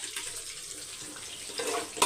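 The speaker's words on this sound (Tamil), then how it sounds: "அளந்து தண்ணியை இதில் ஊற்றிக்கலாம்" Water pouring into a cooking pot while making restaurant-style chicken 65 biryani, a soft steady trickle that swells briefly near the end, heard alone.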